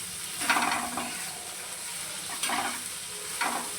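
Okra fries in an open pan with a steady, soft sizzle, close by, and a few louder bursts of frying noise where the vegetables are stirred.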